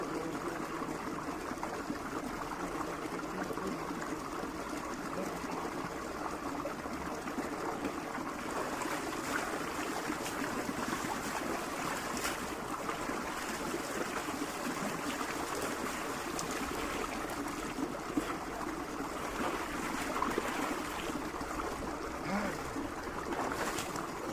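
Shower water runs in a steady, continuous hiss and patter, close and even throughout with no voices over it.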